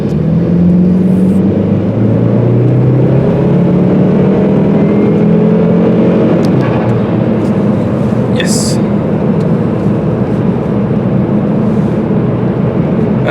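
A turbocharged car accelerates under boost, heard from inside the cabin as a loud, steady engine drone with rising tones that climb through the gears, plus a brief high hiss or chirp near the end.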